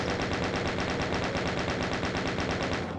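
Rapid, evenly spaced automatic gunfire from chain-gunner enemies in the video game Scythe 2, on the Earth Jungle map, rattles on without a break as one dense, loud burst.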